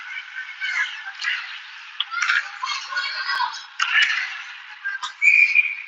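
Referee's whistle at a youth ice hockey tournament game, heard as shrill tonal blasts over rink and crowd noise, with a sharper sustained toot near the end.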